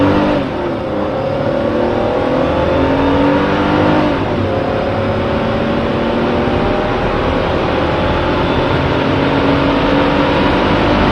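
A Mercedes C32 AMG engine pulls hard and loud, pitch climbing steadily through the revs with a brief shift partway, sustained acceleration heard from inside the car.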